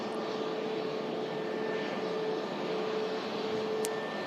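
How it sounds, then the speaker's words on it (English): A Pegasus Airbus A321neo jet taxis past at Manchester Airport, a steady broadband engine roar with a faint whine held at constant level throughout, no voices. "a Pegasus A321neo taxiing past us here at the Runway Visitor Park, Manchester Airport"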